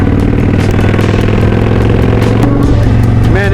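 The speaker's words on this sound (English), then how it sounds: "Man, this old Kawasaki, it'll get up and go." An old Kawasaki custom chopper motorcycle pulls hard, its loud, close engine drone steady and throbbing with a rattling edge, then shifting pitch near the end.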